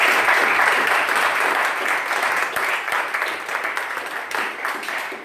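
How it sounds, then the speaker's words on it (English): Sustained audience applause at a tech meetup in Graz, steady and dense throughout with no talk over it, fading slightly toward the end. "So please give Manfred a great applause."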